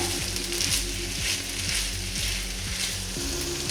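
Asian noodles with ginger stir-fry in a hot pan, giving a loud, continuous sizzle with rhythmic scraping strokes as the food is tossed and stirred.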